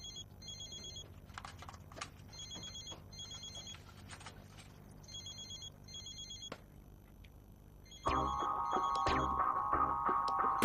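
A telephone rings in repeated short electronic trills, fairly quiet at first, then a louder, steady ringing tone cuts in for the last couple of seconds.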